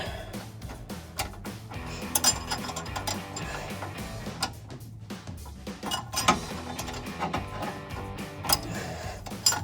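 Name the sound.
ratchet tightening sway bar end link bolts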